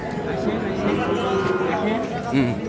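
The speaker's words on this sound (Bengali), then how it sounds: "ওই গরুগুলো দেখেন" Sahiwal cattle at a busy cattle market, a cow's low moo rising under dense crowd chatter and nearby voices, close and continuous.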